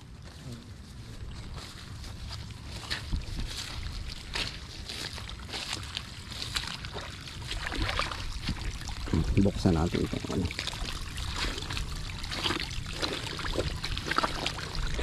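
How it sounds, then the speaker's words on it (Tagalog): Water pours and trickles steadily as it drains out of a container, with people talking over it throughout. "Drain natin yung tubig"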